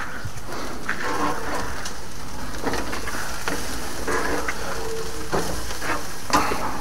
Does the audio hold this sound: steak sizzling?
yes